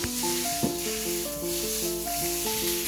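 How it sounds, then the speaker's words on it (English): Kielbasa sears in a hot pan with a steady, close sizzle, while a melodic music tune plays over it. "So now we have our kielbasa. We're just going to sear this up a little bit"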